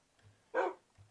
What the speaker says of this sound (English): I found the dog. not a dog. More like a wolf.